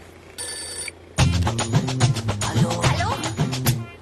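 A telephone rings loudly and close, a brief electronic tone first, then a sustained repeating ring of rapid bell-like trills that fills the rest of the moment.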